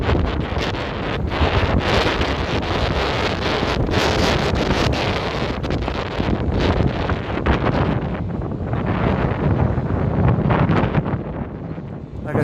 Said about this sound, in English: It's kind of windy this evening